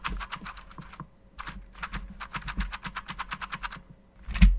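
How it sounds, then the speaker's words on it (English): Rattling stabilizers inside a Razer Huntsman Mini keyboard fitted with clicky purple switches, shaken in bursts of quick clacking rattles with short pauses between, close and fairly loud. "every single switch has stab rattle, and if you shake the board, you can tell that the stabilizers aren't exactly firm in their place"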